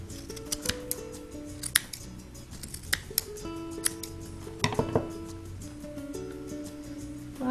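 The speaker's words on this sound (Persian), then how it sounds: "وقتی چسبید میتونید کوتاش بکنید." Scissors snip a craft piece to trim it shorter while making a decoration, giving a series of sharp, close clicks and clinks at irregular intervals with soft handling noise between them and no talking.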